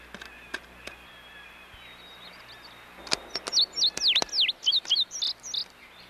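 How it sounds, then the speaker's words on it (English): Songbirds at a backyard bird feeder in winter, several quick clicks followed by a burst of bright, rapid chirping and twittering notes, close and lively over faint background hiss. "songbirds often flock to backyard bird feeders for a handout"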